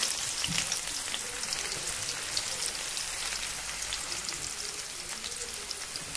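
Cumin, mustard seeds, chopped garlic and chopped onion fry in hot oil, giving a steady, dense sizzle that holds at an even level from start to finish with no voices.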